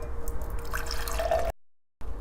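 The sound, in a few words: pouring peppermint tea into a cup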